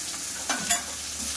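Eggplant dropped into potatoes already frying in a pan, giving a steady soft sizzle with two brief louder bursts as the pieces hit the hot oil, close and alone.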